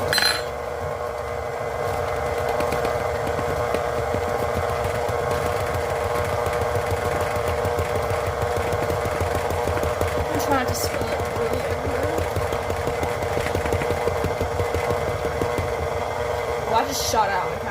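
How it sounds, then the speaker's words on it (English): An electric mixer beats cookie dough as a dry mixture is added, giving a loud, steady motor whir that runs unbroken from start to finish, with a person talking over it. "I think I'm going to start mixing this and I'm going to add in the dry mixture as it's mixing"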